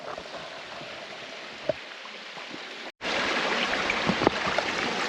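Water from a large waterfall rushes steadily into a pool in the Kimberley. A soft, even hiss of falling water breaks briefly, then returns louder and fuller, with a few small splashes.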